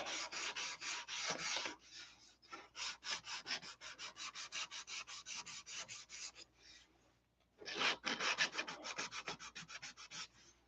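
A wooden tip being sanded by hand, giving long runs of quick, close rasping strokes with a short pause near the middle before the rubbing picks up again.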